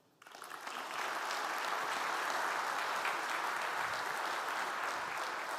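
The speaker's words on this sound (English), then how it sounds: "Please welcome, with a warm round of applause, from one of the gold sponsors of this event," A conference audience breaks into applause for a speaker, rising quickly from near silence into a dense, steady wash of clapping that holds strong and even without voices.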